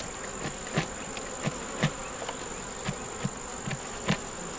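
Honeybees fill the air around an open hive while frames are worked loose of propolis: a steady, close buzzing drone runs throughout, broken by soft, regular clicks and taps, with no voices.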